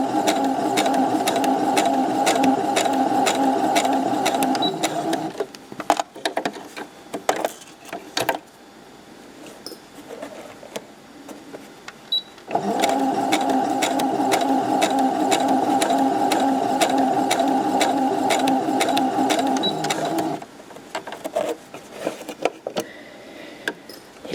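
A sewing machine stitches fabric close along the cord of piping while making a small pouch, running in two long steady bursts of close rhythmic whirring separated by a quieter gap of handling and short stop-start stitches.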